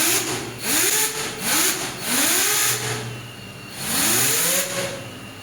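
A drone motor on an endurance and payload thrust tester spins up again and again as the throttle is applied, giving about five rising, whining pitch sweeps over a steady background hum, fairly loud and close.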